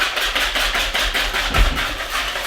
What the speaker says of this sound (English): I just want to stir, whisk it together until that sugar gets mostly dissolved